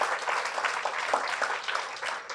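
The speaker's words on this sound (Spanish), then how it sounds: "Un aplauso para Dios por la vida de Jean." Applause from a church congregation during a Sunday service, a steady wash of many hands clapping at moderate volume throughout, with no voices over it.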